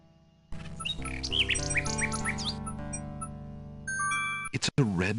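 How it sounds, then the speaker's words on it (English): In the King's Quest VI video game, a little bird chirps and squawks in a rapid series of bright calls over soft ambient game music, ending in a louder flurry of bird sounds. "The little bird makes a delivery."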